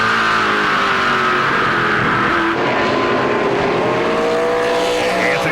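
Stock race cars at a 2010 Prairie Thunder event roar loudly around the track. Several engines overlap with rising and falling pitch as they accelerate and pass, in a continuous dense roar.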